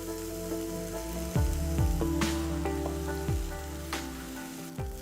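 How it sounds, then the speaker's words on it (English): Parboiled noodles stir-fried with vegetables and tossed with two forks in a hot pan, a soft sizzle punctuated by sharp metallic clinks and scrapes at irregular intervals. "I like using 2 forks and mix the noodles well with the vegetables so that it evenly gets mixed"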